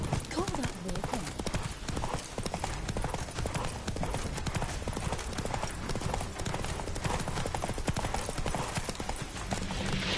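Roach the horse gallops in The Witcher on PS5, rapid loud clip-clop hoofbeats pounding continuously alongside game music and effects, with voices speaking over the action.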